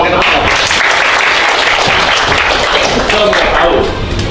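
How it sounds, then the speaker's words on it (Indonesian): Students in a school classroom clap their hands in loud, continuous applause lasting several seconds, with voices mixed into the dense clapping. "Tepuk tangan pakai tepuk tangan."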